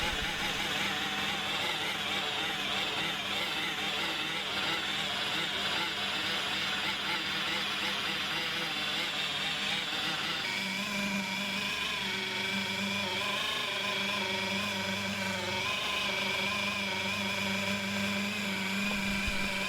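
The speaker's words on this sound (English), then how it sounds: "Keep polishing and don't be afraid to experiment with the speed and the pressure." Rotary machine polishing a deep scratch out of glass with the xNet scratch removal system, a steady whirring drone with a continuous grinding hiss that shifts in pitch partway through as the speed changes.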